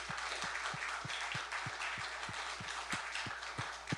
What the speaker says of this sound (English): let's have a round of applause for Mike